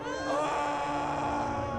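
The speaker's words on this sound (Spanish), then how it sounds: "Pero Jesús lanzó un fuerte grito" A man lets out a loud, sustained anguished cry during the crucifixion scene of a Gospel of Mark film. It is a single drawn-out, strained scream, close and prominent.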